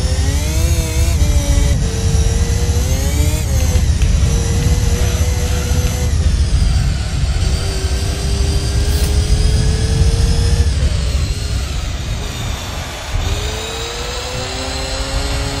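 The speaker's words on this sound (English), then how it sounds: "And the Shelby Cobra is sure fast." A Shelby Cobra's engine races in the video game Gran Turismo 3 A-Spec, a loud sustained roar with rising revs, gear-change dips and brief drops through corners, no voices.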